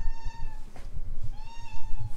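A pet cat meows indoors, two drawn-out, clear meows close by, separated by a short pause with faint rustling between them.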